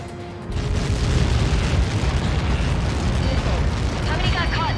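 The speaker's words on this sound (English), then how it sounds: "How many got caught in that explosion?" In Ace Combat 7, a Helios projectile hits with a massive explosion, a sudden deep boom that swells into a long, loud, rumbling roar and keeps going without fading.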